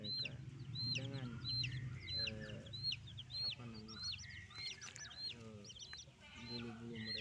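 Rainbow-dyed chickens cluck and chatter close by in a lively, overlapping run of short calls, with a person talking underneath throughout.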